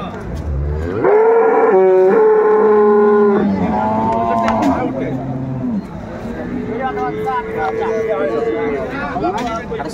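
At a cattle market, a dairy cow of improved breed, with her calf, gives several loud, drawn-out moos, close and deep, while people talk and bargain around her amid market chatter.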